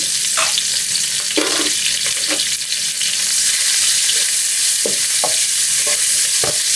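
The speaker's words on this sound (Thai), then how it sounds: "พอน้ำมันเดือดแล้วก็จะใส่ หอมหัวใหญ่กับพริกเผาลงไปผัดให้เข้ากันนะครับ" Onion and roasted chili paste stir-fry in hot oil with a loud, steady sizzle up close, while a utensil scrapes and clacks against the pan at irregular intervals.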